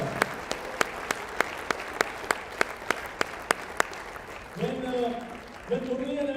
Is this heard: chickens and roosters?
no